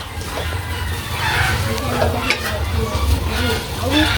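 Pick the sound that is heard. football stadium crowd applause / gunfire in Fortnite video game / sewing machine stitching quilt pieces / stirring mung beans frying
stirring mung beans frying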